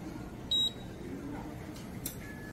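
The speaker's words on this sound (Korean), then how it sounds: "개찰구에서 지하철 교통카드를 찍고 나옵니다." Brief electronic beep from a subway fare gate as a transit card is tapped at a Seoul station exit, a short clear tone over station murmur, followed by fainter chirps.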